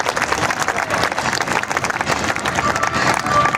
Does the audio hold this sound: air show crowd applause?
yes